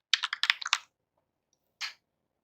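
A computer keyboard clatters in a quick run of about a dozen close keystrokes, then one more lone tap after a short silence.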